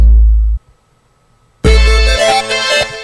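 Two deep, booming electronic bass hits separated by a short silence, the second layered with a bright synth melody.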